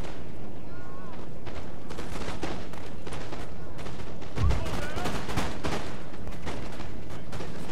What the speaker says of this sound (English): I'm getting shots off on him while he's running.